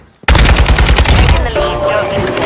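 Rapid automatic gunfire rips through a Call of Duty match, a loud close burst of machine-gun shots that starts abruptly and rattles on for about a second before trailing into a ringing echo.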